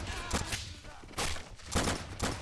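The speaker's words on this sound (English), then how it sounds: "the cannons back here are actually firing at the guys on the hill" Bursts of artillery-style cannon fire in the Army Men: Plastic Wars video game, three or four broadband booming blasts spaced about a second apart at moderate loudness, with no talking.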